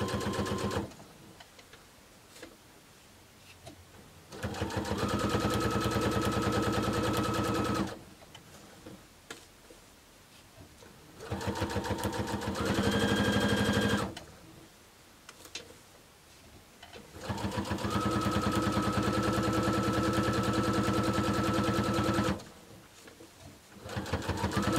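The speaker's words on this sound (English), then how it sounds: "I can start at the outside and I'm going to stitch my way in." Sewing machine stitching a quilt-as-you-go table runner with a quarter-inch seam, running in three long steady bursts separated by quiet pauses, a near, even mechanical whir with ticking needle rhythm.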